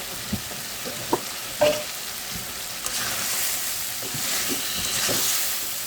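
Singi fish curry with tomato and roasted spice powder being stir-fried, a steady sizzle with a few sharp scraping knocks of a spatula against the pan, the frying growing fuller in the second half.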